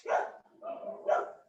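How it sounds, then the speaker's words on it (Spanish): A small dog barks three times in quick, moderately loud yips, heard in the background of an online class, with no clear speech over it. "Me parece que tiene un perrito ahí ladrándole."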